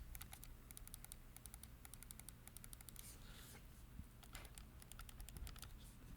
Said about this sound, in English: they have hair trigger locks,